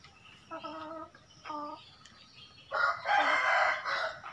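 A rooster crows in a village morning, with harmonic calls in two bursts followed by a louder, fuller crow and clucking from chickens nearby, fairly close and with no clear talk over it.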